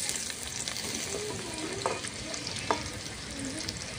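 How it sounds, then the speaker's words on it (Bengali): Chopped onions frying in hot oil give a steady close sizzle with occasional stirring scrapes, with wind noise outdoors in the background. "এইবার আমি তেলের মধ্যে পেঁয়াজ কুচিগুলো দিয়ে দেব।"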